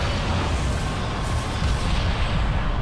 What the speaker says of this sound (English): Arm forward cannons.